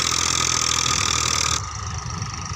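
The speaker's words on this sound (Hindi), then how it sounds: "इसे ट्रैक्टर की सहायता से इसको गिराने की कोशिश कर रहे हैं।" A 1993 Massey Ferguson 1035 DI 35 hp tractor engine runs steadily and loud nearby while pulling down a dry tree on a farm, its tone dropping partway through as the load changes.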